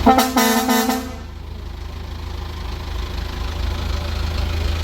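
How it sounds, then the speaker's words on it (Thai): A loud, brassy vehicle air horn blares for about a second at close range, then cuts off, leaving a diesel engine idling steadily underneath. "ใส่แตรลมค่ะแตรลม"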